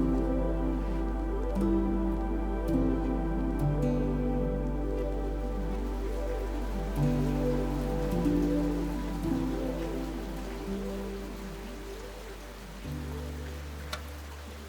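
Steady rain falls at night in Basel, a soft continuous patter heard alongside a low sustained tonal drone, with no talking throughout.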